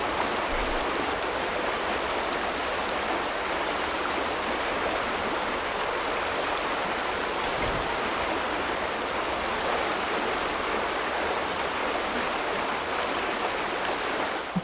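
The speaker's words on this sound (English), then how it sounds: "It's next to the swirling water." Swirling water flows continuously in the video game The Vanishing of Ethan Carter, a steady broadband rush of a stream with no pauses, fairly loud and alone.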